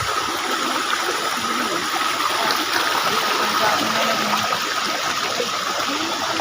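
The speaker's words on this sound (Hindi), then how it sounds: "आ चुके हैं हम लोग पहाड़ के ऊपर, जहाँ से पानी गिरता फुल" Water tumbling steadily down a waterfall at Kakolat in hilly terrain, with a continuous broadband rush that stays close and fairly loud throughout, with no voices.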